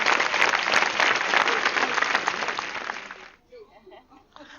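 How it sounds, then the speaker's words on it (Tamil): Studio audience on a Tamil TV game show breaks into loud, dense applause that holds steady for about three seconds, then quickly dies away, leaving only faint room sound and a brief voice. "நல்ல கைத்தட்டல் உங்களுக்கு"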